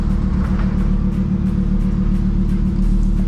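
A 1000hp Audi R8 heard from inside, its exhaust a loud, steady low rumble droning throughout, with no clear revving.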